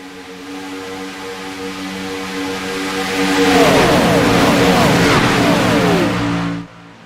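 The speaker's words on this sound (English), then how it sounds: "Man, the sound of these cars are amazing." Race car engines roar on a track at a memorial event, a loud sustained drone that swells as a pack of cars passes close, with rising and falling engine tones, then cuts off abruptly.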